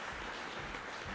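Audience applause for guests at a French-language awards press conference, a steady broad patter filling the whole moment, moderately loud and even with no voices on top.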